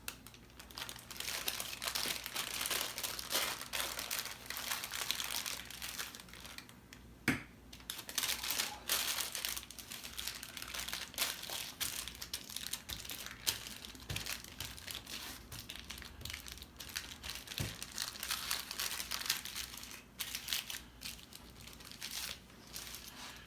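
Wax paper bag being filled with pollen patty mix for bees, giving steady close crinkling and rustling throughout with occasional sharper crackles and taps, no talking.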